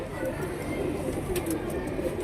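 A pair of Kaldume pigeons cooing softly and steadily throughout, low murmuring calls under a constant background hiss.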